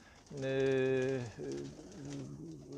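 Racing pigeons coo close by, a loud drawn-out rolling call followed by softer repeated coos, with a little speech in the background.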